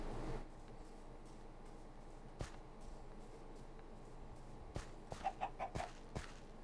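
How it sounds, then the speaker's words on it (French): A chicken clucks in the Minecraft video game, a short burst of soft clucks over a faint ambient background, with a few isolated taps elsewhere. "Oh, j'entends de la poule."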